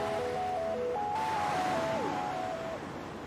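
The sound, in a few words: sea waves sweeping the beach with sea breeze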